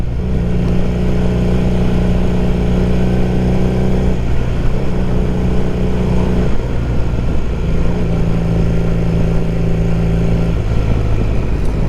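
A 1978 Honda CB400T motorcycle engine drones steadily and loudly while being ridden, its pitch shifting a few times as the rider changes speed, with constant wind and road noise beneath.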